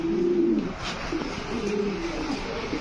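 A house pigeon held in hand gives loud, close, repeated rolling coos in several drawn-out phrases against a steady background hum, with no speech.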